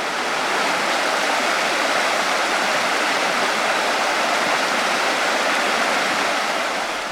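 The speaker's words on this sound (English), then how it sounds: "The creek ran pretty persistent to my right as we gradually made our way uphill." Rain-swollen creek water near Mina Sauk Falls in Missouri rushes past in a steady, dense, full-bodied roar, close by and unbroken, with no voices over it.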